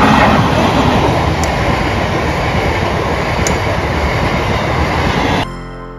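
A train rumbles past a railway level crossing on the road near Ghatshila, loud and close with continuous rolling wheel noise, then cuts off abruptly at the end.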